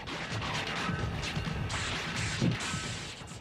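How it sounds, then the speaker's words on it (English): A Category 2 hurricane's massive storm surge crashes through a vulnerable coastal community, a dense, continuous roar of pounding water and wind with heavy crashing impacts throughout. "nature is defiant and sends a massive surge crashing through the vulnerable community"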